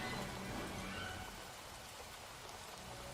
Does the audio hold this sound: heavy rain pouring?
yes